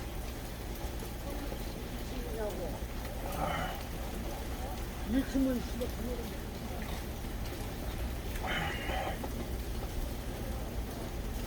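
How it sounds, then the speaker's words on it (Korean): Heavy typhoon rain pours steadily, a dense continuous hiss of drops drumming on surfaces, with a few brief faint sounds rising over the wash. "비 신나게 옵니다."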